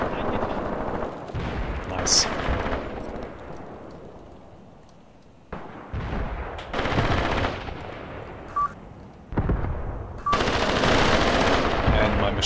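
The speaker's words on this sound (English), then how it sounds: "Machine guns, of course." Machine guns firing in a Graviteam Tactics WWII battle, alongside small 5 cm mortars, come as loud bursts of gunfire in several clusters with brief lulls between them.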